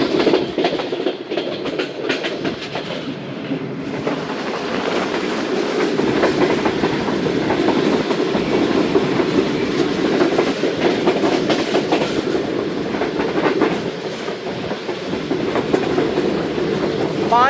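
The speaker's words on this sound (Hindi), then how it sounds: "सामने से आ रही है ट्रेन डाउन अल्लामा इकबाल" A train on a Pakistani railway line near Lahore passes loud and close, its long rolling rumble carrying rhythmic clickety-clack from the wheels over the rail joints for the whole stretch.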